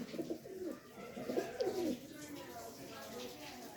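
Several soft pigeon coos close by, low rolling calls repeating in short bursts over quiet background noise.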